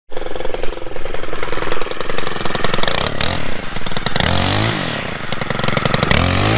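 A Stihl KM 91 R Kombisystem engine runs loud and close, holding a steady buzzing drone before rising and falling through several revs, with no talking.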